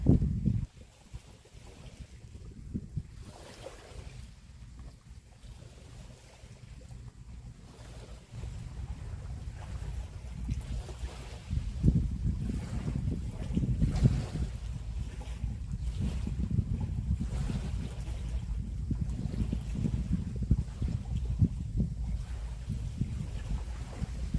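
Wind blowing at the shore during mullet fishing on Ganghwa Island, a continuous rough rumble buffeting the microphone, gusting and building slightly louder over time, with no talk.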